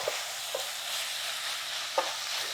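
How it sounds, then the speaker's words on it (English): Beef pieces browning in a stew pot are stirred, giving a steady close sizzle with a few sharp scrapes of the spoon against the pot. "then you're going to put your beef in. And stir it around."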